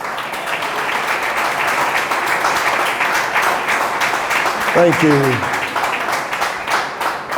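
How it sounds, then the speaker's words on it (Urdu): Applause from a church congregation during a pastor's sermon, a steady dense wash of clapping throughout, with a brief spoken thanks partway in. "اب تک کسی نے کچھ سیکھا ہو تو وہ یسوع کے لیے تالیاں بجا سکتا ہے"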